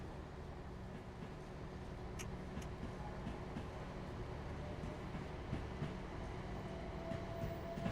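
A short train rolls along steadily in Train Sim World 5. The low rumble of running gear and faint rail ticks stay fairly quiet and even, rising slightly toward the end. No talking.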